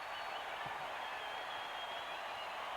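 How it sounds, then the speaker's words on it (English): Iowa State's home basketball crowd roars during a 2000 college game against Texas, a steady, unbroken wash of cheering noise heard from a distance at low level without clear individual voices. "Listen to this crowd."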